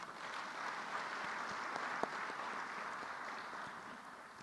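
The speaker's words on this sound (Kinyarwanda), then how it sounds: "Twabashimira, tubaha amashyi." Steady applause from senators in a Rwandan senate chamber after an election result, a continuous even patter of many hands with no voices over it.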